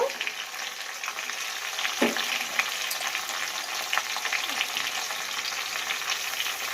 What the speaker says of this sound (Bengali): ফুলকপি আলু ভাজা হয়ে গেছে।